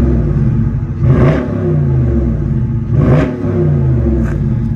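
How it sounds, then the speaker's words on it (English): A 2021 Dodge Challenger R/T Plus with a Hemi V8 and eight-speed automatic is revved twice through its exhaust, each short rise to a soft limiter falling back to a steady idle rumble, close and alone. "The exhaust, very nice note. Let's see if we can give you a sample."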